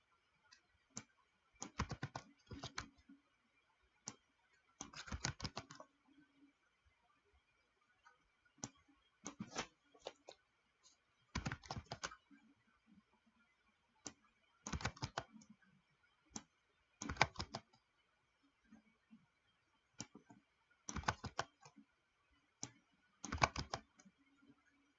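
Computer keyboard typing while editing code variables, with quiet bursts of rapid key clicks separated by short pauses, close and alone against near silence.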